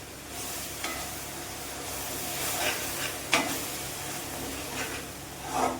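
Masala for a fish curry fries in a pan, giving a steady close sizzle broken by a few scraping stirs and taps of the spoon, with no voices.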